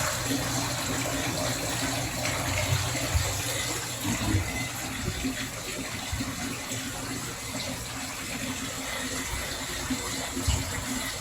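Water runs steadily and evenly, a continuous splashing hiss that holds without pause.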